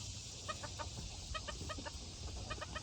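Chickens clucking in short, faint, repeated bursts, small clusters of calls coming at a steady pace against a quiet background hiss.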